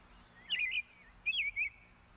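A bird answers from inside shrubbery with two bright, high chirping calls, the second a quick double burst, heard close and alone in a quiet setting.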